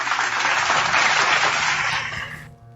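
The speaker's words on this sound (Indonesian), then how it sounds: "Tepuk tangan dulu buat saudara Sweet" An audience at a religious debate bursts into dense, loud clapping that holds steady for about two seconds and then fades quickly, leaving a faint low hum.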